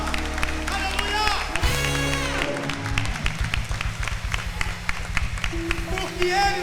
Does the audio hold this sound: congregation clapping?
yes